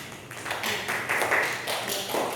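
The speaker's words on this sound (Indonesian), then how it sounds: "Tepuk tangan" Brief classroom applause from students after an answer in a lesson, a light patter of clapping from a small group lasting a couple of seconds.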